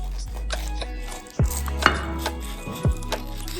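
A knife cuts into a freshly baked Oreo muffin on a board, with a few distinct crisp chopping taps close up and a quiet room around them.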